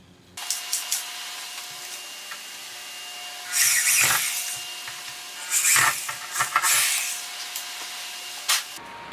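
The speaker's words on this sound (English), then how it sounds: "This surround outside the rubber seal is actually metal, so I can drill into that no problem." A power drill whirs in bursts into the metal surround outside a rubber seal, with high grinding pulses and short pauses under a constant motor hum.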